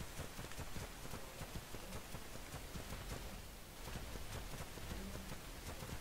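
Steady rain falls in the survival video game ARK Survival Evolved as a dense, continuous hiss of droplets with soft patters, even and unbroken throughout, no voices.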